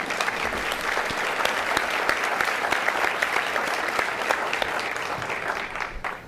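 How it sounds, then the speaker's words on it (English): A town meeting audience breaks into sustained applause, a full, even roar of many hands clapping with occasional sharper individual claps standing out, steady throughout. "now you ought to applaud"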